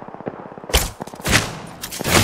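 A big gun fires in a video game, several loud booming shots in quick bursts with short gaps between them, close and heavy.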